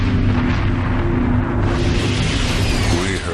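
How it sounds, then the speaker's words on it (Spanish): A loud, continuous roar of rumbling explosion-like noise fills the clip, with a thin high screeching tone rising near the end, as a KLM airliner crashes onto the runway at Tenerife. "Escuchamos un chirrido tremendo y una explosión."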